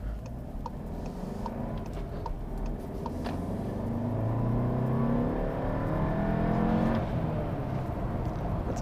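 A 2016 Volkswagen Golf TSI hatchback with a five-speed manual pulls hard through the gears, its engine note climbing steadily in pitch and growing louder over about nine seconds, with one clear shift partway through.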